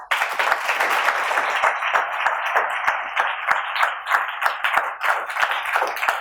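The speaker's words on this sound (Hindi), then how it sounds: "भाई के लिए जोरदार तालियां" Enthusiastic applause from a church congregation during a live Sunday service sermon, many hands clapping with distinct sharp claps standing out, strong and sustained, pulsing slightly in intensity.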